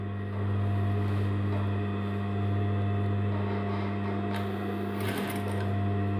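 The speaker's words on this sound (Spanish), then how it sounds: "Vamos cosiendo por donde hemos puesto los alfileres." Sewing machine stitching along a pinned denim jeans waistband, a loud steady motor hum with a rapid needle rhythm, slight speed changes and a brief clatter near the end, running alone without talk.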